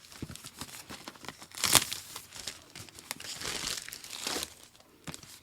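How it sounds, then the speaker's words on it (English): Plastic wrap being broken open on a box of Merbeau clean face towels, with close, quiet crinkling and rustling and one sharp crackling burst, no voices. "Want to carefully break the plastic here."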